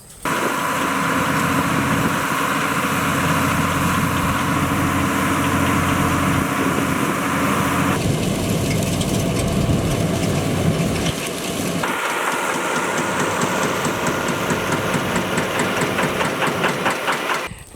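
A farm machine engine runs steadily over an organic compost pile with a loud, continuous mechanical drone, and its tone shifts partway through as the load changes.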